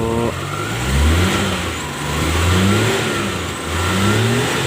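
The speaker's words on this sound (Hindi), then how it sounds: "एक्सीलेट में देखें तो थोड़ा सा डिले है, थोड़ा रेस लेट पकड़ती है गाड़ी।" Suzuki Bolan Carry pickup engine with a replacement ECU, revving up and down in three repeated surges with a slight lag before each rise, close and loud with no talking.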